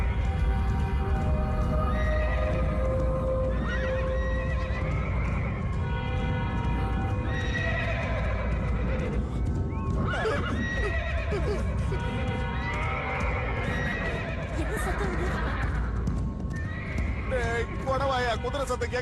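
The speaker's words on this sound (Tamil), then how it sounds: "குதிரை சத்தம் கேக்குதா?" A horse neighs in loud, shaky whinnies, with clip-clop hoofbeats and voices mixed in throughout, in a Tamil-dubbed comedy film.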